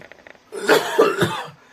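A couple of harsh, close coughs, preceded by a brief soft breath, loud and abrupt in a quiet room.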